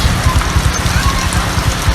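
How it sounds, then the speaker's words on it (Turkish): Heavy monsoon rain in the Philippines pours steadily, a dense close hiss of falling water with a fluttering low rumble underneath, continuous throughout. "Muson yağmuruna denk geldik."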